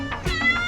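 Cat meowing in Culebra, Puerto Rico: a few short, close, clear meows strung together in under a second.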